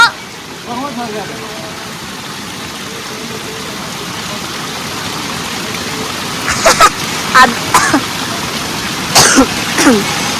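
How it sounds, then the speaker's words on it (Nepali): Several sharp coughs break out in the second half, in short bursts close to the listener, over a steady rushing background like running water, at snowy Muktinath Temple. "सरी गाइस मलाई खोकी लाग्यो"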